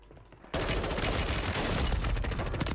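Sudden, sustained automatic gunfire erupts after a half-second lull in Warzone 3 on Rebirth Island, a loud, continuous, crackling stream of rapid shots with no speech over it.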